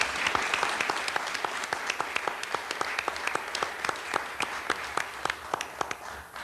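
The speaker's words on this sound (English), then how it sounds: "very rarely do you hear applause in a witness room" Applause from a modest group in a Senate hearing witness room: a steady patter of distinct, fairly sparse claps running the whole time at moderate level, with no talk over it.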